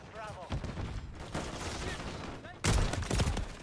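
Fast, repeated gunfire from long-range weapons in a Call of Duty MW3 multiplayer match rattles at moderate distance, growing louder toward the end, with a voice speaking between bursts.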